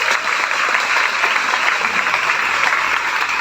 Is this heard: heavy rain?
no